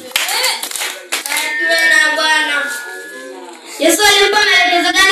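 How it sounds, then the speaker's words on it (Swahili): A church congregation claps for the Lord in loud, close bursts of hand claps while voices sing or call out strongly over and between the clapping. "Amina, tumpigie Bwana makofi."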